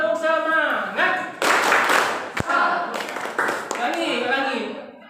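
A teacher leads a class of older students at an Islamic religious-education lesson in a rhythmic spirit clap; bursts of group clapping break out between his spoken prompts, with talk dominating much of the clip.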